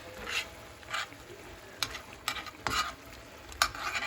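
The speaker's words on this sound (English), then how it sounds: "So just kind of stir this all around" Haitian Cajun fusion chicken stirred around in a pot: a run of scraping, sloshing strokes at an irregular pace, close and moderately loud, with no talking.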